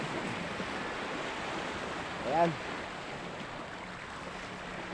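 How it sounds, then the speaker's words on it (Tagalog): Slightly rough sea waves off a coastal sitio, a steady broadband wash of surf and wind, with a brief voice rising over it midway. "Kaya ang ating karagatan ay medyo maalon kunti."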